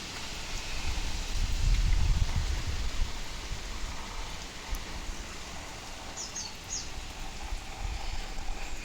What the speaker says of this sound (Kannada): ನೋಡಿ ಇವಾಗಲೂ ಬರ್ತಿದೆ ಮಳೆ.